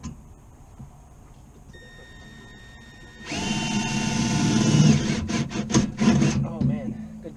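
A new drill bit bores a hole, with a sharp rising whine of the power drill that grinds steadily for a few seconds before stuttering and stopping, close and loud.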